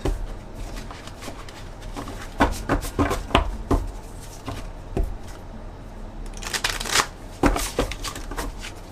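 Tarot cards shuffled and drawn by hand, a run of crisp riffling flutters and slaps in uneven bursts, close and with no talking.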